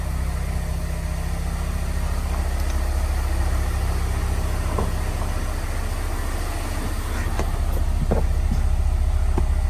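A supercharged 2022 Mazda Miata RF with a JDL exhaust idles with a low, steady rumble, a few faint clicks and knocks over the constant drone.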